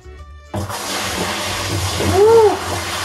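Wine poured during home winemaking bursts in after a brief quiet moment, a loud, continuous splashing gush of liquid that swells toward the end, with a short voice heard over it.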